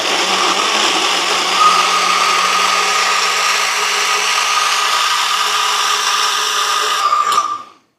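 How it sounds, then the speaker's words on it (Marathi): A blender fitted with a four-blade jar whirs steadily and loudly as it blends a thick kulfi and rabdi mixture, holding an even pitch before cutting off abruptly near the end. "आता इथं मी हे 4 पात्याचं ब्लेड वापरलेलं आहे ब्लेंडिंगसाठी"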